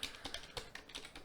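Rapid, uneven keystrokes on a computer keyboard, close and fairly loud, as a password is entered during a French Crash Team Racing live stream; about a dozen crisp taps with no talking.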